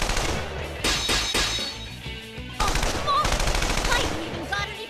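Heavy machine gun fire in Persona 4 Arena, loud sustained bursts of rapid shots with brief gaps between volleys, close and harsh.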